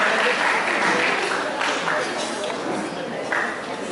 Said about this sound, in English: huge round of applause for Team 4